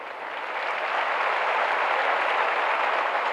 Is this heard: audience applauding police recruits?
yes